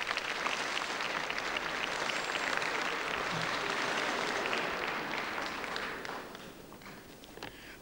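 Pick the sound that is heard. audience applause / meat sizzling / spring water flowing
audience applause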